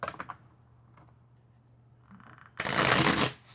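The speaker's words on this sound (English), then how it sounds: "Yeah, it shuffles really nicely." A Lasenikuv Tarot deck with lightly coated, flexible cards is shuffled in one loud, dense riffle near the end, after quiet handling and faint taps.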